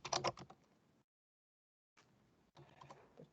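Typing on a computer keyboard during a programming class, quick clustered key clicks in two bursts separated by a full second of silence, close and moderately loud with no voices.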